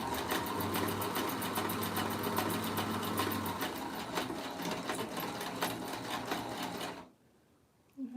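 A sewing machine stitches lingerie panties near the gusset, running in a rapid, even mechanical chatter with a low motor hum underneath. It runs steadily for about seven seconds, then stops abruptly, leaving near silence and a small click.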